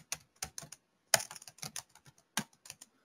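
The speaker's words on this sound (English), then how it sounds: "he will be typing" Quiet typing on a computer keyboard during a coding tutorial, with sharp, irregular clicks of single keystrokes and small bursts spread across a few seconds and no voices.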